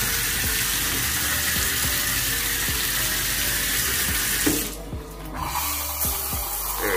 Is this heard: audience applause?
no